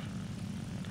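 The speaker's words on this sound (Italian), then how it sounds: "Adesso sto usando il mio aereo migliore" Fighter plane propeller engine in the War Thunder video game, a steady low droning hum that stays loud and constant throughout the short moment with no pauses.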